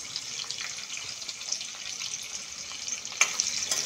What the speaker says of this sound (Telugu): ఉల్లిపాయలు బాగా వేయించుకుందాం.